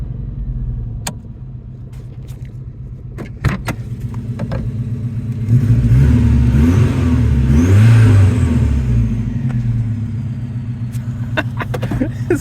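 A 1982 Saab 900 Turbo, a barn find, runs with a steady low engine rumble that swells into a louder rev midway and then settles back, with a few sharp clicks scattered over the top.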